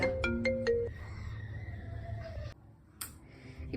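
A mobile phone ringtone plays a quick repeated melody close by, breaks off, and is followed by quieter tones and faint background sounds.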